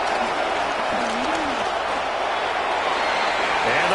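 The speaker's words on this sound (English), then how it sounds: "How about some applause for the defense there?" Steady crowd applause and cheering from an NFL football video game fills the whole stretch, a broad continuous roar at even volume with no pauses.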